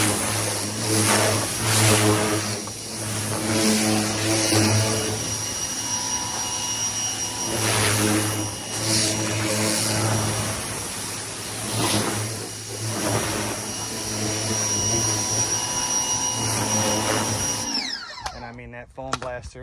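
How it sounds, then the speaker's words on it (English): An inexpensive electric pressure washer rinsing foam off a car, a steady loud motor whine with hissing spray running continuously up close before cutting off near the end. "we went ahead and switched over to the pressure washer"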